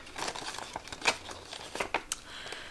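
Paper crinkles and rustles softly as a cash bill goes into a paper budget envelope, in quiet irregular bursts, close by and with no talk.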